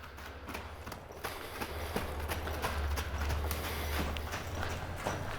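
A five-year-old Mustang horse lopes nearby, its hooves thudding in a steady rolling rhythm over low rumbling background noise.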